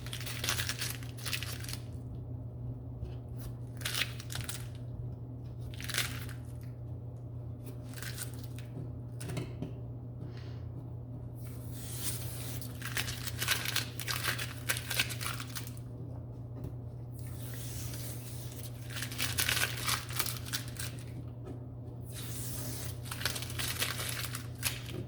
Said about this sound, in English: I'm just gonna speed this up while I pull the tape off